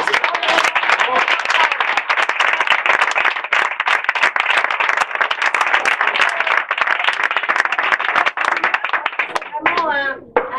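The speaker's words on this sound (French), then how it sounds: "Applaudir plus pour Chantal" An audience applauds for Chantal, dense sustained clapping from a crowd that carries steadily for about ten seconds before thinning out, with a voice starting to speak as it fades.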